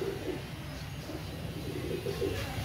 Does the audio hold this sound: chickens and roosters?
no